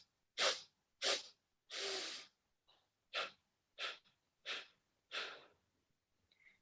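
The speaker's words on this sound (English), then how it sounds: "really hearing those sniffs" Sharp nasal sniffing inhales during a four-part breathing exercise, about eight quick breaths in an uneven rhythm with short pauses, close and clear, with no talking.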